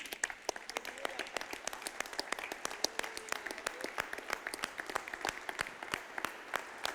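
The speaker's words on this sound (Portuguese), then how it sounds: "Dá uma salva de palmas para Jesus." A church congregation claps throughout a Sunday worship service, sharp separate hand claps forming steady, fairly close applause that carries on without a break.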